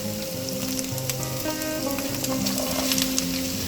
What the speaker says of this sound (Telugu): ఇప్పుడు మనం ఇందులోనే సొరకాయ ముక్కలు వేసేసుకుందాం.